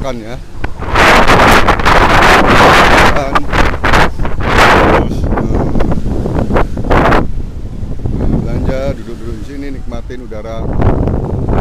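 Strong sea wind buffets the microphone on the shore of Palu Bay at Talise Beach, a loud continuous roar with gusts, while a person talks over it in the second half.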